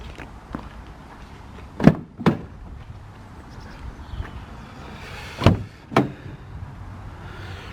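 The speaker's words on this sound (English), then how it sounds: "So let's open up all the doors." Car doors and the boot are opened and shut on a car in a garage, giving four sharp clunks in two close pairs over quiet background shuffling, with no talk.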